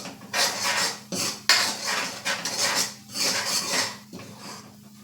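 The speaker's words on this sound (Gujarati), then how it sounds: "હવે આપણે એમાં થોડી હિંગ એડ કરીશું અને બરાબર મિક્સ કરી લેશું." Asafoetida being stirred into sev mamra ingredients in a pan, with repeated scraping and rustling of a spoon against metal in uneven strokes, close and fairly loud.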